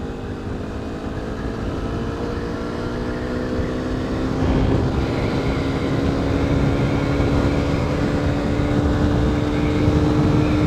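A Honda CRF 250 Rally motorcycle engine revs hard at road speed, a loud steady drone whose pitch climbs slowly over about ten seconds, with constant wind rush and no talking.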